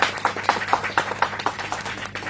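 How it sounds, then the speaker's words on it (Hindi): An audience applauds filmmakers at a film festival event, a steady patter of many hands clapping in quick irregular rhythm, fairly close and alone. "प्लीज इन फिल्म मेकर के लिए तालियां हो जाए"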